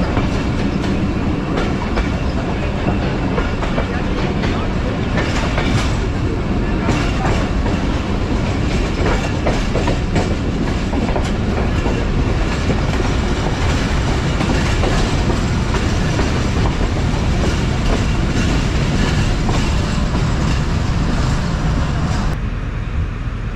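Thal Express passenger train running on the rails past a junction station, a loud, continuous rumble with rhythmic wheel clatter close by for the whole stretch.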